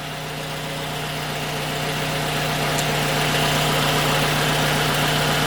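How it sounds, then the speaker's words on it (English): A 2018 Toyota RAV4 petrol engine idles steadily up close during a transmission fluid change, a constant low rumble with a faint rhythmic vibration and no talking. "Engine should be running."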